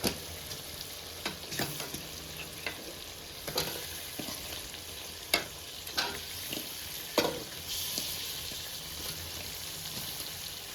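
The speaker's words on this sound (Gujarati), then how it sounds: "હવે આપણે નાખી દેવાનું છે શાક" Vegetables for a Gujarati sabzi hit a hot pan with a sustained sizzle, then are stirred, with scraping spoon strokes and crackling frying running steadily throughout, and no talk.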